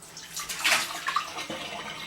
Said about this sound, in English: I'm just going to drain this water out